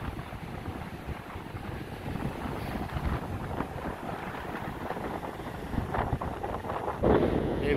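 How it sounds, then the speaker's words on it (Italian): Strong wind buffets the microphone continuously with a rough, gusty roar, loud and close throughout, on a beach with blowing sand. "C'è un vento veramente forte"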